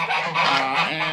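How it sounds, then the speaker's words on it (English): Geese at a winter animal shelter, playing in water in extreme cold, give a short burst of close, loud honks, several calls in quick succession with no talking. "You can see the geese over here just kind of playing in the water."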